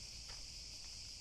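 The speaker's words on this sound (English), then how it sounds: "The sound that you can listen is the cicadas" A steady, high-pitched cicada drone fills the hot summer air in Athens continuously, even and unbroken throughout.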